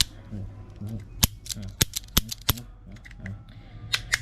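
The cylinder of a stainless Taurus M85 .38 Special revolver is turned by hand, giving a string of sharp, close metallic clicks at an uneven pace while someone talks quietly underneath.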